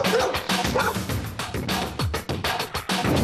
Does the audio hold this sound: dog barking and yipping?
yes